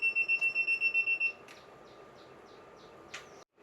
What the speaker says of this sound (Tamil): எதில் வந்து சப்ளை வருதோ அந்த டெர்மினலில் விட்டால் மட்டும்தான் வந்து பீப் சவுண்டு வந்து அடிக்கும்